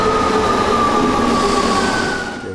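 A budget train bound for Rome, with wide carriages, rumbles along loudly with steady rail noise and a faint squealing tone from the wheels, fading slightly at the end.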